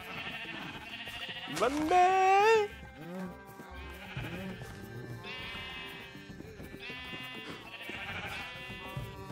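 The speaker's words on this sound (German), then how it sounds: "hellgraues Schaf, sei schön brav, gib mir deine Wolle." A sheep in the Minecraft video game gives a loud wavering bleat, followed by quieter bleats over game background sounds, with someone talking briefly.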